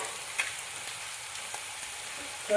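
A vegetable curry with chilli, turmeric, garam masala, oil and salt sizzles steadily in a pan, with a few light stirring taps and a brief clatter at the end.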